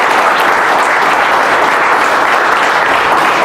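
Loud, dense crowd applause for a speaker at a motivational event, a steady sustained roar of clapping with no voices standing out.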